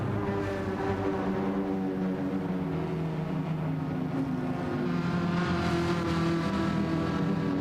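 Ferrari 458 GR.3 race cars in a Gran Turismo 7 race at the Nürburgring roar off the start together, a steady dense engine drone with rising revs building through the grid, loud and continuous throughout.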